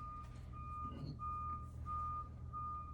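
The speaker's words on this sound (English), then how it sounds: "It feels like this FedEx truck is just backing itself around my entire complex" A FedEx delivery truck backs up around an apartment complex, its reversing alarm beeping steadily in evenly spaced tones over a low engine rumble, moderately distant and faint.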